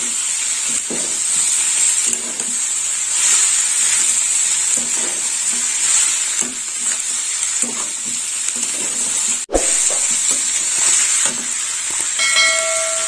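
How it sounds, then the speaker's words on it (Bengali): Banana flower curry is sautéed in a pan, giving a loud, steady frying sizzle and hiss with scraping stirring strokes, one sharp knock partway through and a brief beep near the end. "ভালো করে কষে নেব।"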